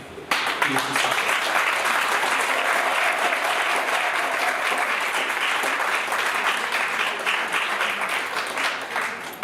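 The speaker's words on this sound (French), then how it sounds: "Je vous prie de vous applaudir." An audience at a Prestige Center and Canal Plus tour event in the Gôh-Djiboua district breaks into loud, sustained applause that starts abruptly and stays strong for several seconds before easing slightly.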